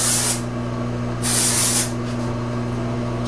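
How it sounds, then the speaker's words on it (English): Dry shampoo hisses onto a Sensationnel Empress body-wave lace wig in two short close sprays over a low background hum. "a little bit of dry shampoo."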